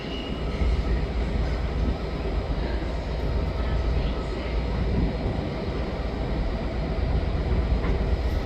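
A train departing Manchester Piccadilly station for Nottingham rumbles steadily and loudly nearby, a dense, continuous roar of wheels and engine that never lets up.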